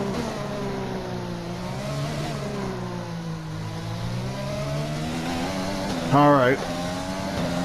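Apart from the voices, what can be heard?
F1 race cars engines in racing video game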